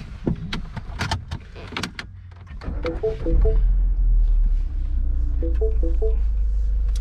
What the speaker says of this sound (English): I'm gonna bow the seat up, Tommy.